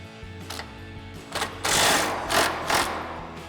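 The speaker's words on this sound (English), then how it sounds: "So we'll grab our 21 mil socket and swivel adapter on our impact. Go ahead and just loosen those up just a little bit." Impact wrench loosening differential nuts on a Jeep Wrangler, several short bursts of rattling hammering that grow longer and louder, close by, with quieter mechanical clatter in between.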